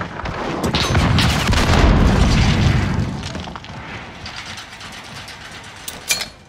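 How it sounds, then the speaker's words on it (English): A mine is set during a Call of Duty: Modern Warfare team deathmatch, with a loud mechanical clatter and rumble that fades into softer ratcheting clicks and a final sharp metallic snap. "Reloading! Grenade out! Setting a mine."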